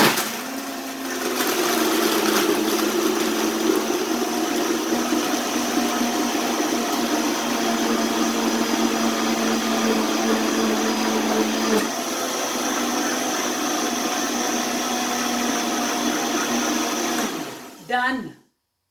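Kitchen blender crushing ice during a kids' cooking class, a loud, sustained whirring roar with gritty rattle that runs steadily for about seventeen seconds before cutting off abruptly.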